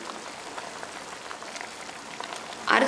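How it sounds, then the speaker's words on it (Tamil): An egg drop curry simmers in a pot over medium heat, a steady bubbling with soft crackles and pops throughout, growing louder and harsher at the very end. "நல்லா கொதிக்கட்டும்."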